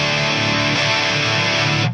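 Harley Benton electric guitar on its middle pickup through a Marshall DSL-20 combo on ultra gain, a loud, thick distorted chord sustaining for about two seconds before cutting off abruptly.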